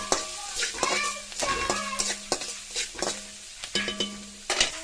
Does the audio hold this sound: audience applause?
no